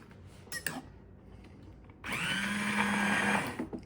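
Immersion blender whirring through sweet and sour sauce, a loud steady motor drone of about a second and a half after a few quiet clatters, with no talking.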